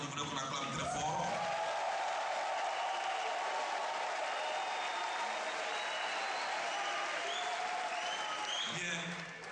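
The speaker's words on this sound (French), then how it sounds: "merci à l'armée de Côte d'Ivoire que je voulais qu'on acclame très fort" A crowd at an Ivorian gathering honouring Lumumba breaks into loud, sustained applause for the army of Côte d'Ivoire, with dense clapping and scattered cheers that fade slightly at the end.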